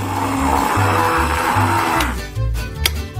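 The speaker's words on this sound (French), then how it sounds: "Il faut broyer les graines de café en poudre." Coffee beans are ground to powder in a grinder, a loud close motor whir with a pulsing, churning rhythm that shifts pitch as the beans break down, no speech.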